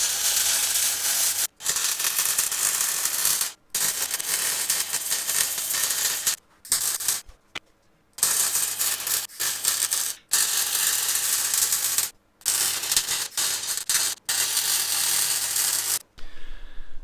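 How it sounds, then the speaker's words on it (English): MIG welding on the stretched frame of a Honda C70 motorcycle: a steady, close crackling hiss in long runs, broken by short pauses between welds. "I'm just going to finish welding up all these little bits."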